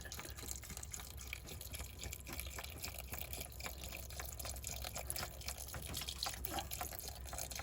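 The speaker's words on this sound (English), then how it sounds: "next, you pour in the chicken broth," Chicken broth pours steadily into a crock pot with a continuous splashing, gurgling wash, close by and fairly quiet, with no voices.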